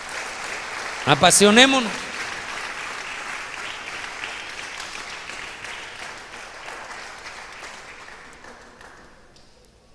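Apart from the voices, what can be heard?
audience applause in church service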